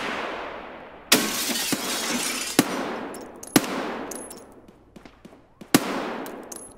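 Several sharp gunshots in Escape From Tarkov crack out at irregular intervals, each a loud broadband burst with a fading tail over steady ambient background noise, no talking.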